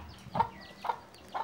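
Young chicks on a poultry farm give three short, soft clucking calls spaced roughly half a second apart, faint and close by with no talk.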